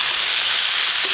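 Chopped beans, green tomato and peas tipped into a hot frying pan with potato and beetroot, giving a loud, close, continuous sizzle and frying hiss for a brief moment, with no talk.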